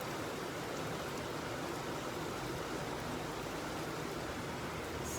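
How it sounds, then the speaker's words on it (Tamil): Heavy rain falls steadily at night as a continuous even hiss with no breaks, heard from a distance at low volume. "பட் சூப்பராக வந்து மழை பெய்யுது."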